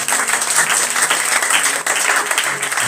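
Church congregation applauding together, loud, dense, continuous clapping filling the whole moment with some voices mixed in.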